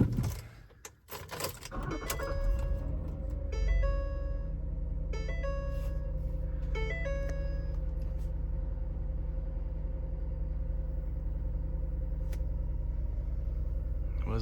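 A 2010 Ford Flex Limited AWD EcoBoost cranks with a brief clatter, then settles into a steady low idle hum, with several chime dings in the first seconds, all close by.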